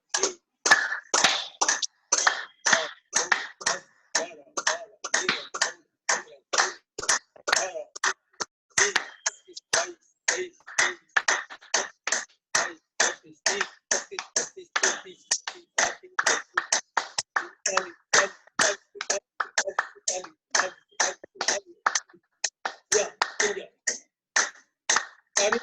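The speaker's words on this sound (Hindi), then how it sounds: "201 बार तालियां बजनी है" A yoga class group claps hands together in a steady, rapid rhythm, with many sharp, loud claps repeating evenly and continuously throughout.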